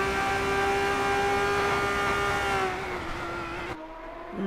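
Onboard Formula 3 race car engine in a racing game, a loud, steady high-pitched whine held at high revs that drops in pitch as the car lifts off, then cuts sharply before rising again.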